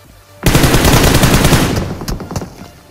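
An M16A rifle in PUBG Mobile fires a sustained loud, close burst of rapid shots that lasts about a second and a half, followed by a few fainter separate shots.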